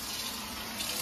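Water runs from a dorm sink faucet fitted with a tap attachment, a steady close hiss of flowing water that holds constant and fairly quiet for about a second.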